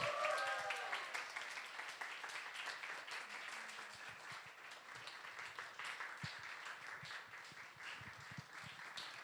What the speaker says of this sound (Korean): 소개할 때 우리 유아정 간사님 소개할 때 큰 박수로 환영합니다